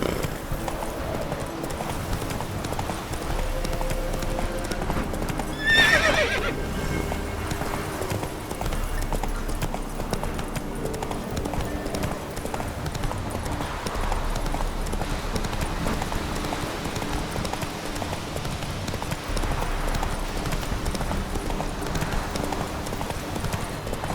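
Steady hoofbeats of a horse galloping in the video game The Witcher 3 run throughout, loud and continuous, with a brief neigh near the start and game ambience underneath.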